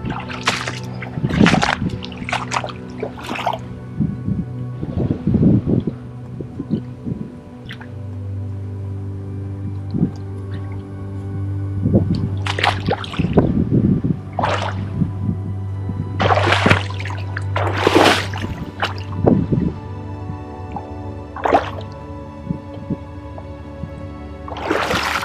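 Feet wade and splash through cold sea water off Jeju Island, with irregular sloshes and drips that come close and loud in bursts over a steady low background hum.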